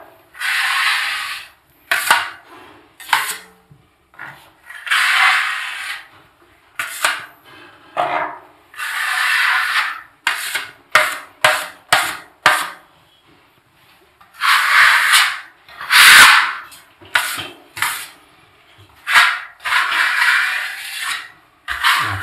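Drywall knife blade drawn over joint compound on paper tape, making repeated close, soft scraping swipes, some long and smooth, others short and quick, with brief pauses between strokes.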